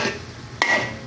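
Ground meat for torta stirred in a pan, soft scraping of a utensil with two sharp clinks against the pan over a faint sizzle.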